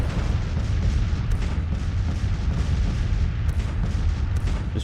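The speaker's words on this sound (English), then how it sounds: "I can, and they instantly start firing." Massed Civil War era troops and artillery fire in the Union campaign of the strategy game Grand Tactician, a dense, continuous roar of volleys and booming cannon with sharper cracks rising throughout, loud and unbroken.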